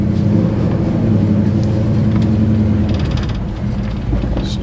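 1971 Chevy Nova with engine malfunctions driven along a road, a loud steady low engine drone and road rumble, close up and continuous, with no talk.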